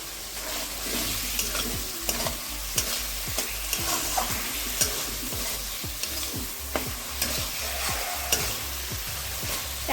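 Masala frying in a pan with tomato sauce, soy sauce and a splash of water, stirred by a spoon, giving a close, steady sizzle with regular knocking scrapes of the utensil.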